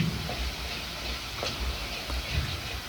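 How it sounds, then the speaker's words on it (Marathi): A ginger, garlic, green chili and coriander paste sizzles in hot oil while being stirred for an eel fish curry, a soft constant frying hiss with light scraping, close and fairly quiet. "ही पेस्ट आपल्याला छान अशी परतवून घ्यायची आहे"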